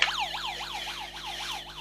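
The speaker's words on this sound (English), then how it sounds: "Let's fire up the siren." Emergency siren fired up, a rapid repeating yelp sweeping up and down in pitch roughly every quarter second, clear and steady over a low background hum, with no voices.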